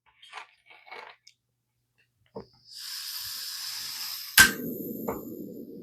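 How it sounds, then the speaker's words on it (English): A small gas burner flame is lit for lab heating, giving a steady soft hiss after a few faint clicks, then a sharp ignition pop, with quiet handling noise afterward. "turn on my flame"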